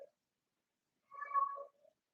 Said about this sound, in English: you may hear things such as my cat meowing.